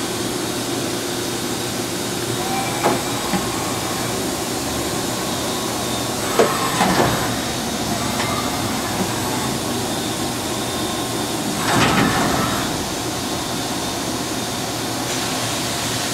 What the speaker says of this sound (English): We'll go ahead and loop the machine through a small program.